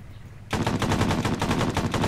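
Sustained automatic gunfire in the military shooter ArmA 3 during a firefight with a technical: after a brief quiet moment, a rapid burst of loud, close shots runs continuously to the end.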